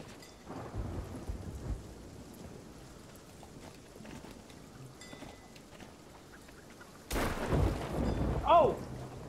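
In a pirate ship video game, a lightning strike sets off a sudden, loud crack and rolling thunder boom after several seconds of quiet rain ambience, and a short vocal exclamation comes just after the strike.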